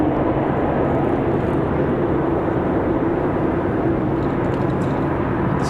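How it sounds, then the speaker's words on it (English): A JetBlue jet departs for Boston from Raleigh-Durham, a steady, dense engine roar filling the scene at close range without letup and with no voices over it. "So there's the one off to Boston"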